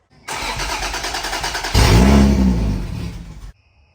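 A Toyota Supra engine cranks with a rapid rhythmic churn, catches and roars loudly for a moment, then sputters and cuts out abruptly, leaving near silence.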